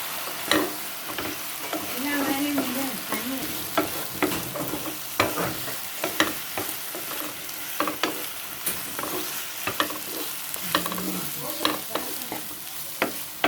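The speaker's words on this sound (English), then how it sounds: "now we just add the fried brinjal. And you just need to stir it very quickly." Fried brinjal pieces stir-fried quickly in a thickened sauce, heard as continuous close sizzling with rapid scraping and clacking utensil strokes throughout, no talking.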